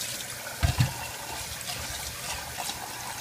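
Rinse water drains off short grain rice, a steady watery wash with a couple of heavier splashes early on, close and alone.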